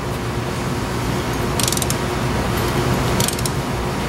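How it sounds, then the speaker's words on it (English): A 1/2-inch ratchet working stubborn wheel hub bolts loose on a Pontiac Grand Am, with steady mechanical grinding and two short bursts of rapid ratchet clicking, close up and without talk. "I actually had to get a 1/2-inch ratchet to get these out"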